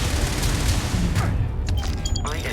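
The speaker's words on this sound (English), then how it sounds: "I guess shooting at a transparent barrier." Gunfire in Starfield aimed at a transparent barrier, a dense rattle of rapid shots and impacts, loud and close, thinning toward the end with a few sharp electronic tones.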